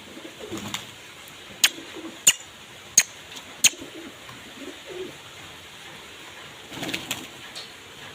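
Pigeons, including white and blue birds in a home loft, coo softly and intermittently at a distance. Several sharp, isolated clicks are spaced about a second apart over a quiet background.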